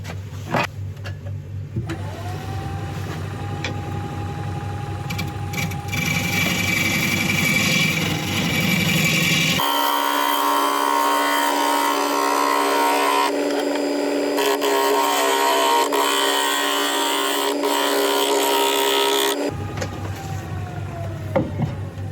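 Wood being turned on a lathe, with steady motor hum and long sustained passes of a gouge cutting the spinning piece, loud and continuous, rising to a broad hiss midway before easing back.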